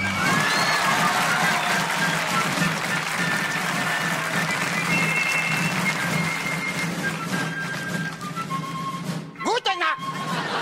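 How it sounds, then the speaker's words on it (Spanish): Audience applause greeting a performer on a Colombian comedy stage show, a dense steady clatter of many clapping hands that carries on for several seconds before tapering into quieter scattered claps near the end. "recibimos con un fuerte aplauso"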